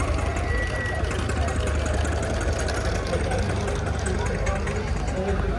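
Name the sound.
small tractor engine running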